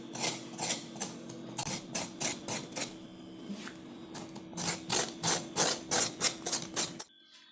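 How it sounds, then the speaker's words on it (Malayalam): Rhythmic rough scraping strokes as the ridged skin of a snake gourd is scrubbed, close and steady with short pauses between bursts, ending abruptly. "അപ്പം ആദ്യം നമുക്ക് ഇതിൻ്റെ തോല് സ്ക്രബ് ചെയ്തെടുക്കാം"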